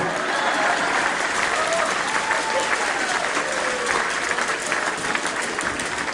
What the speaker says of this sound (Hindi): ताली बजाओ, सांस लेना है।